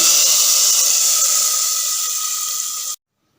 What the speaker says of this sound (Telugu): ఈ పోపుని మనము ఈ తోటకూరలో వేసుకోవాలి.